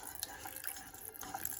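Cold water trickles into a chickpea flour mixture in a pot off the heat while making Sicilian panelle, a faint, brief splashing pour close by.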